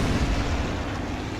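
A tank gun fires in a tank video game with an American T-28 Prototype tank destroyer, a single loud, close, deep boom that rolls into a rumbling tail.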